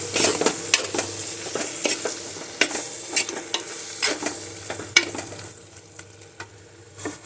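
A spoon stirs a vegetable dish with green coriander and desi ghee in a clay cooking pot, giving close, irregular scraping strokes and soft clinks with a light sizzle beneath, no voices.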